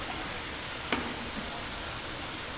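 Ginger-garlic paste thinned with water sizzles in a pan of frying onions for a corn curry, a steady soft hiss with one brief clatter, close and moderately quiet with no talk.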